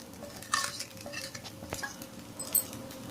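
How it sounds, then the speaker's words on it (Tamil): Chicken fried rice with fried egg being stirred in a pan: soft scraping and clinks of a spoon against metal, a few sharper taps, over a faint steady sizzle, close and fairly quiet. "முட்டையை சேர்த்துட்டு அப்படியே கிளறி விடலாம்."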